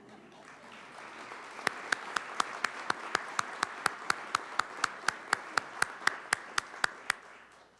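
Commencement ceremony audience applauds the college administration: a soft wash of clapping swells, joined by one loud, close pair of hands clapping in a steady rhythm, about twenty sharp claps before it tapers off.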